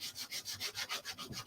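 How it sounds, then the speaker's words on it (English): A small handheld finger sander rubbing over a wooden tower-game block, about eight quick rhythmic back-and-forth strokes, close and fairly faint with no voices. "So I'm just using my little finger sander here."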